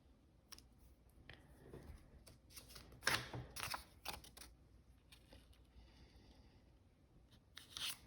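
Pen or pencil tapping and scratching on paper while valence electron dots are drawn beside an element symbol, a quiet series of short irregular ticks and scrapes close up, with no voices.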